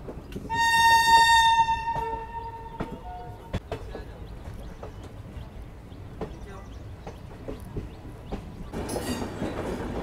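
Mahamana Express passenger train on the Ghaziabad curve, with a long horn blast in the first few seconds, then a steady rumble of wheels on rails and scattered clicks continuing to the end.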